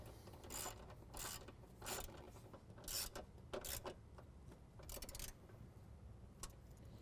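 A ratchet tightens a bolt while an S&B cold air intake is fitted to a 2017 Ford F-250 Powerstroke, giving several quiet, close bursts of rapid clicking separated by short pauses.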